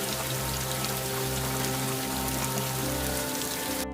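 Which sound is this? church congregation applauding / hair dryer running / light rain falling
light rain falling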